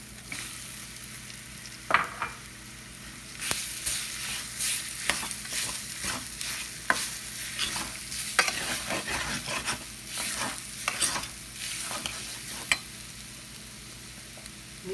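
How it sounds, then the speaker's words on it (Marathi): Ground chana dal frying with turmeric and coriander powder in a pan over low heat while a spoon stirs it, giving a steady soft sizzle with repeated scraping strokes throughout. "आता याला चांगलं परतून घ्यावं"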